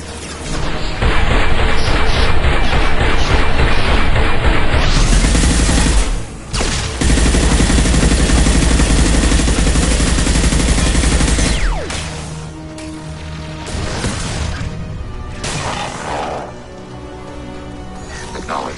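Turret gunfire in Mass Effect 2 during the suicide mission: loud continuous automatic fire and heavy blasts for several seconds, a brief break, then more sustained shooting fading into scattered impacts and mixed battle noise.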